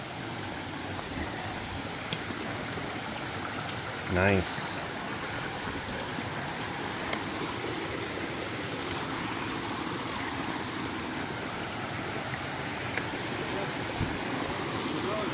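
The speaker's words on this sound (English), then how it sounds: "A little river crossing here." A stream flows steadily at a small river crossing on the Appalachian Trail near Franconia Ridge, a constant broadband rush of water that fills the whole stretch, with a brief spoken word near the middle.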